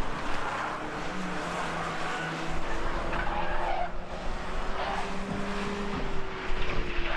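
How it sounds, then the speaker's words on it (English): A race car, the number 98 car, skids after contact in a motorsport crash and slides into the barrier, with a steady loud engine drone and tire scrub running through the whole stretch. "contact there. Off goes the 98 car into the barrier."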